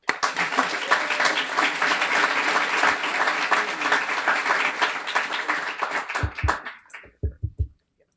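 An audience at a Guiding Eyes for the Blind graduation ceremony breaks into sustained, loud applause welcoming a speaker, dense clapping filling the room for several seconds before thinning to a few last scattered claps.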